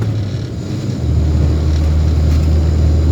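A classic Mini engine idles steadily with the choke pulled out, a continuous low droning hum that deepens and settles slightly after the first second, with no talk over it.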